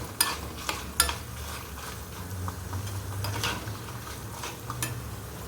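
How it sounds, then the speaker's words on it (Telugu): Mustard seeds and asafoetida crackle and spit in hot oil while tempering for raw mango pulihora, with sharp pops and a steady sizzle, and a few louder snaps rising above the frying. "తర్వాత ఇంగువ పోపులో వేసి చక్కగా ఆవాలు చిటపటలాడాక"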